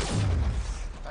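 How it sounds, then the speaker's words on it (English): Weapon test fire in Mass Effect Andromeda: one loud, heavy boom with a deep rumbling body that fades over about a second, up close and with no talking over it. "if we're gonna test our weapon, why not shoot something that'll explode?"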